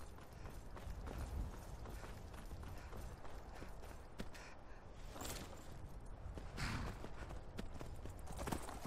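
Rhythmic clip-clop of horse hooves trotting at a steady pace in the video game Skyrim, over a constant, fairly quiet background ambience.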